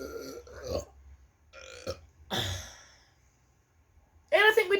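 Deep, croaking burps erupt in turns during a family burping contest, mostly short belches spaced by pauses, with a sigh and some close voices mixed in.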